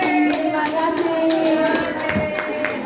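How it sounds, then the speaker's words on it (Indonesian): A school audience claps at a positive-culture dissemination session at a senior high school, with brisk applause mixed with voices and a sustained tone running underneath. "Tepuk tangan semuanya."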